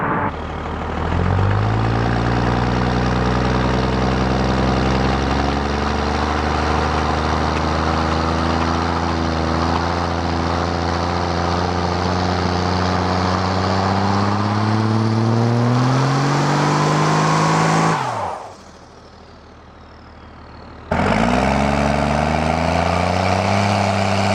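A truck fitted with a full exhaust revs hard from a standstill, its loud engine note climbing steadily while the turbo spools up with a rising whistle, then cutting out abruptly before roaring back.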